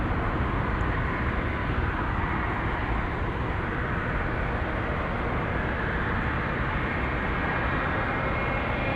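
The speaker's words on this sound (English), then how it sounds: "November 453 Papa Alpha from Seoul, South Korea, landing almost 3 hours late." A jet airliner arriving from Seoul, South Korea, lands with a steady, broad engine roar and rushing noise that holds at a constant loud level throughout, with no talking over it.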